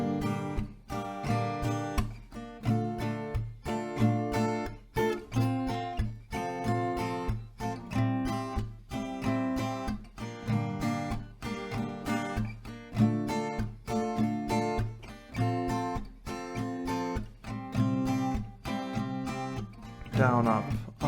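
Acoustic guitar strummed through a four-chord progression from a song, steady rhythmic down-up strokes repeating evenly, loud and close, with no talking.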